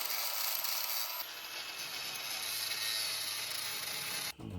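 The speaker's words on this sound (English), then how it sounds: "I might try to just grind a little bit right in the middle of it with a die grinder" A die grinder works on a stuck bolt under a Tesla Model 3, a steady high-pitched whine and grinding hiss held for several seconds before cutting off abruptly.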